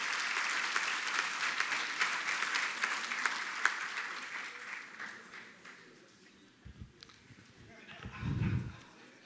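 Audience applause for an award-winning mining company at a ceremony, dense clapping that gradually thins out and fades, followed by brief speech at the close.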